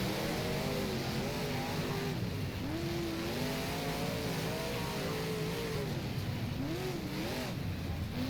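Big block modified race cars roar around a dirt oval in the rFactor racing game, engines revving and rising and falling in pitch as several cars run close together, loud and continuous throughout.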